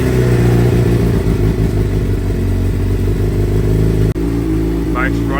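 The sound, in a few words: motorcycle engine running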